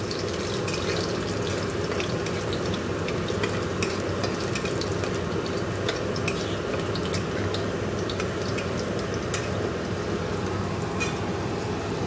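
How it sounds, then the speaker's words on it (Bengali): Garlic fries in a pan before dal and jute leaves are added, making a steady, dense sizzle with light scraping and stirring that continues without pause and without any talking. "একটু ভাজা হোক রসুনটা"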